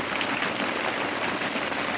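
Hail falls steadily outside in wintry weather, making a dense, continuous patter and hiss that stays even and fairly loud throughout, with no voices over it.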